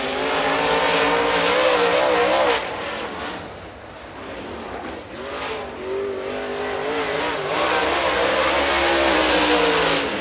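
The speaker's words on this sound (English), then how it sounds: "Coming out of turn four, looking to take the white flag." A super late model race car on a qualifying lap at North Georgia Speedway roars loudly and continuously, its engine pitch rising and falling as it comes off the corner and accelerates down the straight.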